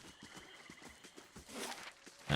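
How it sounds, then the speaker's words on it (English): Horses in the Pillars of Eternity video game clip-clop steadily with hooves striking in an even rhythm, a soft whinny rising partway through, moderately close and clear. "Horses."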